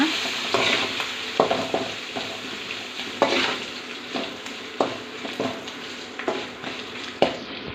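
A spoon stirs turmeric and salt through a mango rice mixture in a pan, with a soft sizzle underneath and regular scraping strokes about every second, close and clear.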